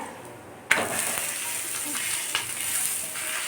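A roti made with pearl millet sizzles on a hot pan, with a sharp clatter as it is flipped and a steady frying hiss continuing afterward.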